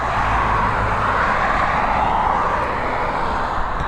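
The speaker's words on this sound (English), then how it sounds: "It's a Challenger 350" A Challenger 350 jet passes at Dublin Airport with a loud, steady engine roar that holds for the whole stretch, close by and with no voices over it.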